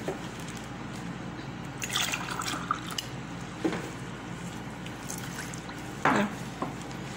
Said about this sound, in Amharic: ቀስ እያልኩ ነው እኔ የምጨምረው፣ እንዳይጓጉል ማለት ነው ውሃው።